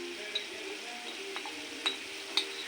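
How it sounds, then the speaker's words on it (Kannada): Tomato puree frying gently in oil for egg gravy, a faint low hiss with a few soft spoon taps and clinks against the pan spaced through the moment. "ಇವಾಗ ಟೊಮೆಟೊ ಚೆನ್ನಾಗಿ ಎಣ್ಣೆಲಿ ಫ್ರೈ ಆಗಿದೆ."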